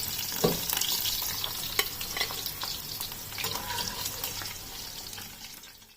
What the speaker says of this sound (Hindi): अब इन आलू को गोल्डन ब्राउन कलर होने तक ऑयल में फ्राई कर लेना है।